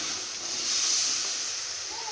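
Salt, turmeric and chili powder sizzle in a pan for brinjal fish curry, a steady, even hiss that swells slightly midway and stays close and alone.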